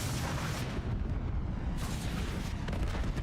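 Grenade explosions in a Call of Duty match at a CDL championship event, heard as a loud, continuous wash of booming blasts and rumbling bursts with no pauses and no talking.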